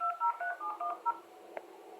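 A rapid series of about eight touch-tone beeps as a phone number is keyed in, followed by a short click and faint line hiss.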